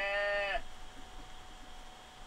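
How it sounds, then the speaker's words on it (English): A video-game sheep gives one loud, sustained bleat at close range that cuts off after about half a second, followed by quiet background ambience. "Look at the sheep."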